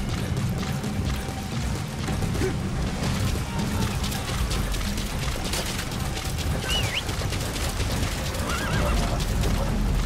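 A horse in the video game Metal Gear Solid V whinnies faintly beneath a dense, steady wash of in-game noise, with hints of hoof clatter mixed through the din.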